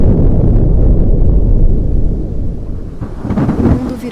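Thunder from a storm at sea rolls in as a loud, deep rumble that fades slightly, then swells again with a second low crack near the end, over rain.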